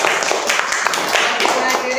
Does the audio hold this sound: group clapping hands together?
yes